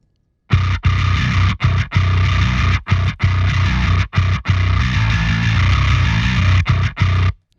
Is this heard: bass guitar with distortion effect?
yes